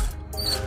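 Ratchet with an 8 mm socket removing a bolt during a grille install on a 2016 Ford F-150, a quick burst of close mechanical clicking, with no voices.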